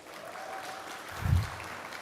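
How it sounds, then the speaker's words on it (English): Audience applause at a foundation summit hall, a soft, distant sustained clapping from a large seated crowd, steady throughout with a brief low thump partway through. "A round of applause again."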